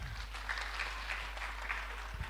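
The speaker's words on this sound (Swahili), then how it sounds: "Mpigieni makofi." Faint, steady clapping from a church congregation at a Kikuyu covenant renewal Sunday service, a soft, even patter over a low hum that lasts the whole stretch with no voices on top.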